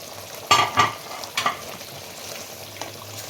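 Pieces of katla fish fry in hot oil in a pan for Bengali doi katla. A few sharp bursts of sizzling come close together near the start, then settle into a quieter, steady crackle.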